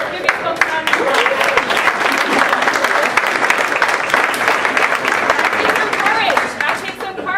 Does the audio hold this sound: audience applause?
yes